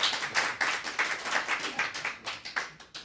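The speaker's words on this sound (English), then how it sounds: "Oh, claps." A small audience at a Spiritist Day talk claps steadily for about three seconds, the sharp hand claps close and fairly even in rhythm with no voices over them.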